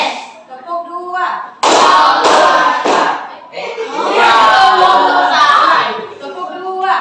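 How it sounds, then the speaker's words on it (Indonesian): Children in a classroom clap a rhythmic pattern together as a group, producing bursts of dense, loud clapping between the teacher's spoken cues. "Tepuk dua."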